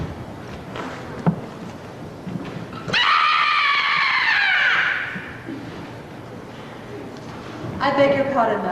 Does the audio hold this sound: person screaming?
yes